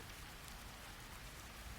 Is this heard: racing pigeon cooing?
no